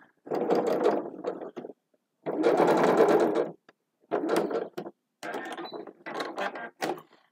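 Sewing machine running a long basting seam in several bursts, each a few seconds of steady whirring stitching separated by short pauses, close and fairly loud with no talking.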